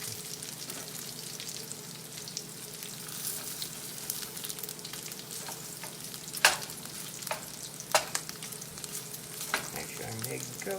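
Sausage sizzling steadily in a cast iron pan, a constant close crackle with occasional scraping clicks from stirring or turning.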